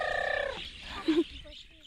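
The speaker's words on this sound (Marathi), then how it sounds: "आनी पक्ष्यांचो आवाज" A fowl gobbles in a rapid warbling burst, followed by a couple of short, fainter bird calls.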